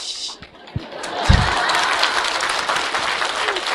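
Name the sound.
audience clapping at a talk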